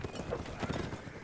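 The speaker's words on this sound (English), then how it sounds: "he's got a herd of horses after him" Herd of horses galloping in the Mount & Blade: Warband video game, a dense rapid clatter of hooves with a whinny mixed in, busy and close, no talk.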